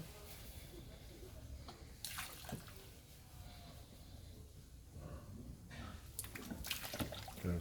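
Disinfectant poured into a container of water on a Ghanaian pig farm, a steady splashing pour with a few louder gushes, heard close with no talk over it.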